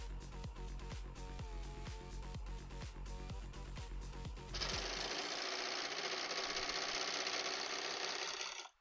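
A loud sewing machine running fast with rapid, evenly spaced mechanical knocking, then shifting to a denser, continuous high whirring buzz that holds until it abruptly stops; no talk is heard.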